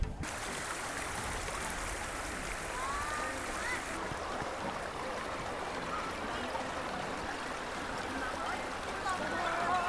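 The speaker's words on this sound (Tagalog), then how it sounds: "Ayan, ito na yung river." A river near a camp in Tanay flows steadily, a continuous broadband rush of water that stays at an even level throughout, with no talking.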